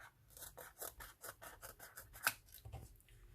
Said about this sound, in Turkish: Kalıbımı şimdi kesiyorum.